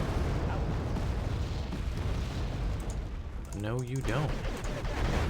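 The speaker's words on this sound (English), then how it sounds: "Uh-oh, artillery." Artillery explosions pound continuously in the Wargame Airland Battle strategy game, a dense rumbling barrage striking near a Humvee, with someone briefly talking over it toward the end.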